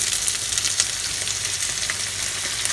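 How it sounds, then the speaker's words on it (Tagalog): Garlic and onion sauté in hot oil for Filipino spaghetti, giving a steady, close sizzle with a few faint stirring clicks and no voices. "Gisahin po natin mabuti ang ating sibuyas hanggang mag-reduce po ng liquid."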